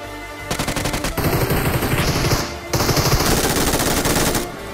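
Automatic gunfire in the mobile battle royale PUBG Mobile: loud, rapid sustained bursts in two long strings separated by a short pause, dense and close, without speech.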